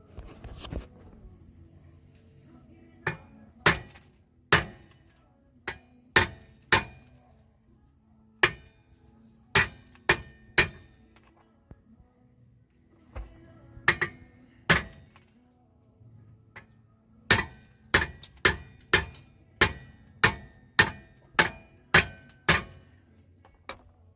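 Hammer blows on a car brake rotor to knock it loose from the hub, a long series of sharp metallic strikes coming in quick bursts with short pauses between, loud and close with no talking.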